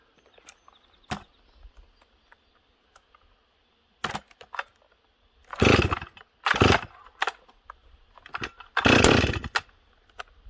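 A chainsaw, a Husky 394xp or Stihl 044 that sat unused for six months, is blipped in short bursts: scattered quiet clicks, then several loud revving surges of about a second each, close and alone.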